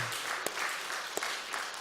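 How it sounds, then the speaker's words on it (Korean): An indoor audience claps at a gathering honouring people over 65, a short burst of steady, moderately faint applause with a couple of sharper individual claps standing out. "다시 한번 박수로 큰 박수로 한번 건강하게 사시라고"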